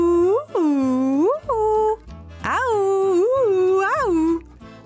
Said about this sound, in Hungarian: Minél bosszusabban ugattak, a cica annál jobban nevetett rajtuk.